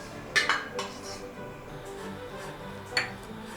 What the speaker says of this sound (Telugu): స్టవ్ మీద ప్యాన్ పెట్టి 1 కప్పు బెల్లం తురుముని ప్యాన్లో వేసుకోవాలి